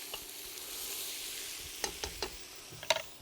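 Vegetables sauté and caramelize in a pot for cioppino, a soft continuous sizzle with a few quick stirring clatters near the end, fairly quiet and without voices.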